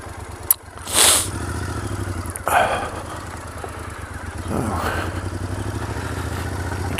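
A Triumph Scrambler motorcycle engine runs steadily at idle, a close mid-pitched throb with brief clatters and rustling noises over it.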